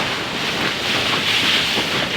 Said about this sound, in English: I mean, that wind is intense.